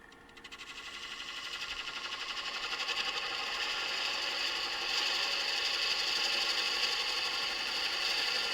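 A metal lathe spins up to turning speed while cutting threads, its steady mechanical whine and hum growing louder over the first few seconds and then holding continuously, with no talking.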